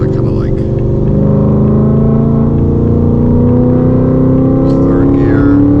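Car running on an E30 ethanol-blend tune accelerating hard, its engine note climbing steadily as it pulls through the gear, loud and close, continuous with no pauses.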